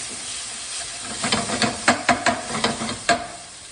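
Garlic paste being stirred into a hot pan for creamy chicken pesto pasta, a steady close sizzle and hiss with a few scraping, clicking stirs of the utensil rising over it, no voices.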